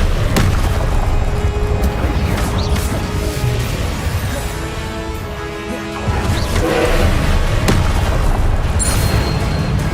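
Fire spell cast in Hogwarts Legacy, a loud roaring blast with heavy booms and crackling bursts that dip briefly and then swell again amid busy game combat sounds.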